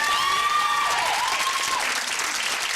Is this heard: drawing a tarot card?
no